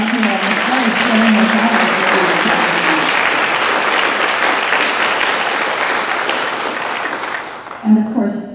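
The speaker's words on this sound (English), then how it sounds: "let's have another huge round of applause for these amazing musicians sitting up here on the stage" Sustained audience applause for concert band musicians on stage, loud and dense clapping that fills the whole stretch, then tapers near the end as a voice briefly speaks.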